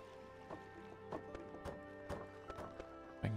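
Hooves from a horse in the video game Kubifaktorium tap out an irregular clip-clop of soft, separate knocks over a steady hum of game music, with a louder thump at the very end.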